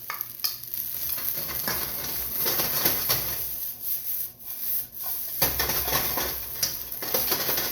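Half a head of cabbage sizzling and being stirred in a hot pan for beef lo mein, a loud, close, continuous fry broken by repeated scraping and tossing strokes, with a few brief dips in loudness.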